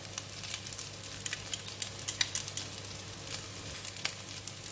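Vegetable fried rice with oyster sauce is tossed in a hot pan, with continuous loud sizzling and crackling. Irregular scraping and stirring strokes run through it, with no voices.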